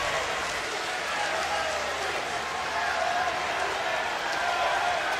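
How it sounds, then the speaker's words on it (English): LSU baseball fans at the College World Series make a steady, broad crowd roar that swells slightly toward the end, with a commentator talking over it. "you can hear the LSU crowd again start to come to life"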